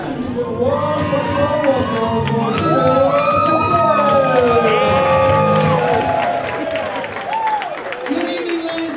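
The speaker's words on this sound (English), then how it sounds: "just show you some footage of the room and the crowd reaction" A comedy club crowd in Columbus cheers, whoops and applauds in a dense, loud wall of voices and clapping that swells in the middle and then eases off, with individual shouts standing out.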